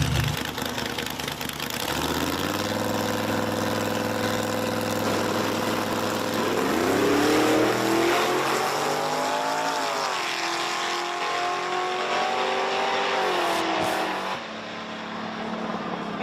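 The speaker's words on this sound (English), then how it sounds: "Got the Stingray Corvette in the right lane going up against the hatchback Mustang in the left lane." Drag race at Virginia Motorsports Park pitting a Stingray Corvette against a hatchback Mustang: loud, close engines rev and roar with rising pitch through the run, then fade near the end, no talk.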